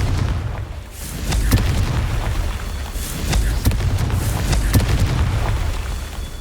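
A Confringo blasting spell in the video game Hogwarts Legacy, heavy booming blasts with low rumbling body and several sharp bursts layered over continuous loud battle noise.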